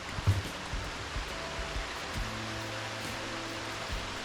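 A secluded waterfall in Tasmanian eucalypt forest gives a soft, steady rushing hiss, fairly faint and continuous, with a few low thumps near the start.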